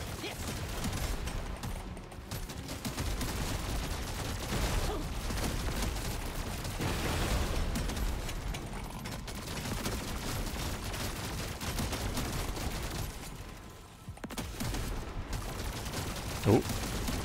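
A fully overclocked plasma carbine fires in Deep Rock Galactic, giving dense rapid bursts of energy shots almost without pause over a busy wash of combat noise.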